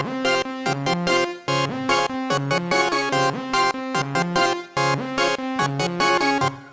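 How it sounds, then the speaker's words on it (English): Saw-wave synth with some resonance playing a rhythmic chord pattern in unison voices for a trap-style beat, loud and steady with choppy stabs and no talking. "it's really just a saw synth with some resonance"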